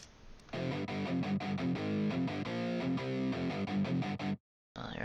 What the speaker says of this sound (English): So it's a pretty dry guitar